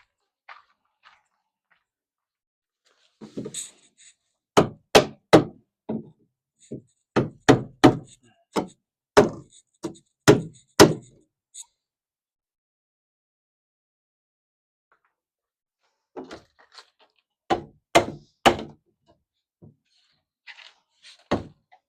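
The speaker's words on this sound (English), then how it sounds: "Let's get the hammer again." Sharp hammer blows ring out in two separate runs, striking at an uneven pace with quiet gaps between them.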